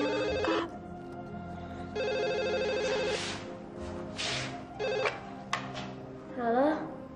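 A telephone rings in repeated bursts of bright electronic tones inside a home, with a pause between rings, while people talk nearby.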